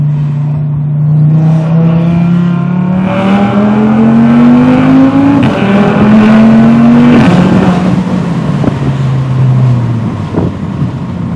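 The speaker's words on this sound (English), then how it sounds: "Man, the car launches!" A loud Audi RS3 engine revs hard and climbs in pitch through several gear shifts as the car launches and accelerates, close and continuous with no voices.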